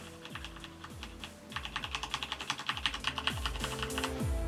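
Typing on a Corsair K95 RGB mechanical keyboard with Cherry Red switches, slightly scratchy keys: a quick run of close, crisp clacks that starts sparse and speeds into a dense rhythmic burst.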